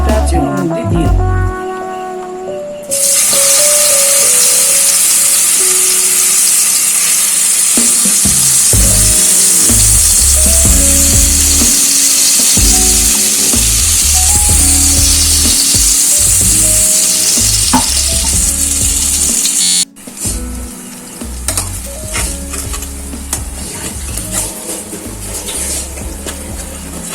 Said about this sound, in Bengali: এবার আমি এই বাটা মশলাটা কড়াই যে বাকি তেলটা আছে ওর মধ্যে দিয়ে দেব।